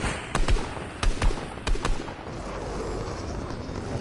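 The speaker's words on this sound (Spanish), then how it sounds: "Detrás, nos disparan detrás." Gunfire in a console shooter game: several sharp, loud shots in quick pairs during the first two seconds, then a steady rumbling noise bed without distinct shots.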